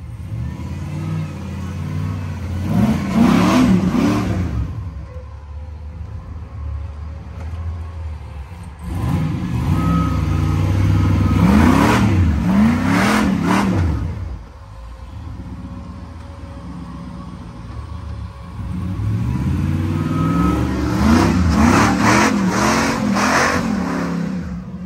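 A car engine revs hard while driving: three loud, rising-and-falling vroom surges separated by quieter stretches of steady engine and road noise, with no talking.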